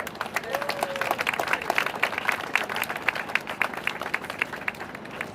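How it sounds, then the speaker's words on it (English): Outdoor crowd at a ribbon cutting for the Potrero Gateway project giving a round of applause, moderately distant, steady scattered clapping for about five seconds. "Please join me in giving all these involved with the project a round of applause."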